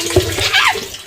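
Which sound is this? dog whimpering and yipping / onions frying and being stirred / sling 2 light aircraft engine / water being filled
water being filled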